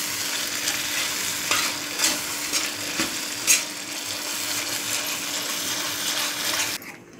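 Mustard greens (sarson ka saag) are stirred in a hot pan: a close, steady sizzle carries on throughout, with a few distinct spoon clacks and scrapes against the pan before stopping abruptly near the end.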